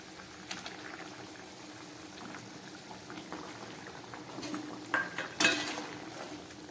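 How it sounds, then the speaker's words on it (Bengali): Fried katla fish head slipped into a pot of boiling thin fish curry: a quiet bubbling simmer, with a few clinks and splashes as the fish goes in near the end. "প্রথমে আমি মাছের মাথাটা দিয়ে দিচ্ছি।"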